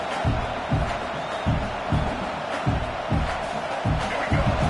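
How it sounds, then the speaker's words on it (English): A dense, roaring stadium crowd at a college football game fills the scene continuously, with rhythmic pulses of chanting or stomping that repeat about every half second, loud and enveloping with no clear speech. "This crowd trying to make life miserable for this offense."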